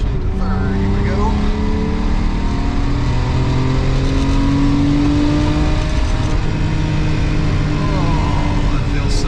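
A supercharged 510 hp Porsche 911 997 Carrera 4S engine rises and falls through a rev-matched shift into third on a mountain road, a loud continuous in-cabin drone with sweeping pitch changes.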